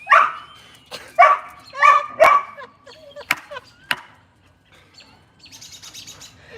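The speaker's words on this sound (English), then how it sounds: "I hear dogs." A few sharp dog barks close by in quick succession, followed by scattered bird chirps and tweets in the background.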